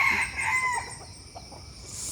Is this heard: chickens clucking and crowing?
yes